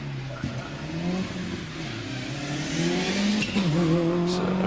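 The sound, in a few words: Subaru Impreza rally car driving up the hill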